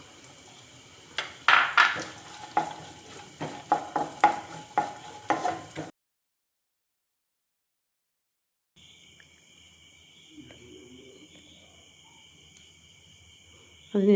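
Coconut pieces fry in ghee for a payasam, a close sizzle with rapid rhythmic clicks of a spoon stirring in the pan, followed by silence and then a faint, thin background hum.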